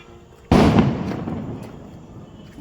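A firecracker bomb bursts in an abandoned hospital colony, one sudden loud blast that rings out and fades slowly into a long echoing tail outdoors.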